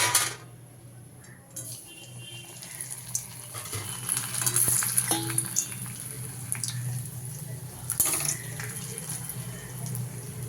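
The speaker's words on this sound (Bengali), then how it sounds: "পাঁপড়টা ভেজে রাখি" Papad frying in hot oil in a home kitchen makes a steady, close hiss and crackle, with a few sharp clicks and utensil knocks rising above it.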